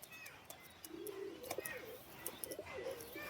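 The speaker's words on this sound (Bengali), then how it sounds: "কেন এত ওড়া পায়রা, ডে নাইট ম্যাচ খেলা পায়রা, এত ওড়া পায়রা আমি আর একে আর মানে হাতছাড়া করতে যাই না।" A high-flying pet pigeon coos in a few soft, low, rounded calls at moderate distance, with faint chirps and background noise around them.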